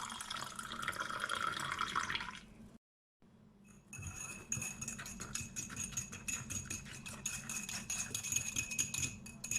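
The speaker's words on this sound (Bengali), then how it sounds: "গরম পানি দিচ্ছি 125 মিলিলিটারের মতো।" Hot water, about 125 millilitres, streams into a glass with matcha powder for a couple of seconds, then a short pause followed by light clinks and splashes nearby.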